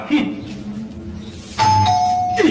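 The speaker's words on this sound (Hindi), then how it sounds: "बज गई घंटी।" A household doorbell rings with a two-tone chime at a home, sounding clearly after a short quiet stretch, with people talking around it.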